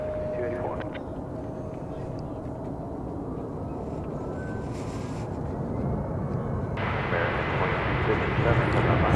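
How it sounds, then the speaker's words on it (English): An Airbus A321 takes off at DFW Airport, its engine roar building steadily from a distant rumble to a louder, broadband thrust while a voice talks over it. "It's an Airbus A321."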